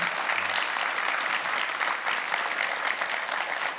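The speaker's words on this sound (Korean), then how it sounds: "여러분 박수 부탁드릴게요" An audience at a citizens' forum with the city mayor applauds, giving steady, even, continuous clapping throughout.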